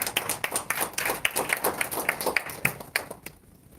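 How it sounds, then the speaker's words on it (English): Audience applause at a partnership signing and product launch event, a small crowd clapping unevenly in close, distinct claps that thin out and fade near the end. "Ladies and gentlemen, another big round of applause to Mr. Heng Wasa."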